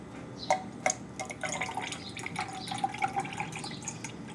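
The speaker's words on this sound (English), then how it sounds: "And then I add in my sparkling ice. This one might kind of explode slightly." Sparkling Ice fizzy drink pours into a glass, a faint close-up spatter of drips and splashes followed by a soft, crackling fizz of bubbles.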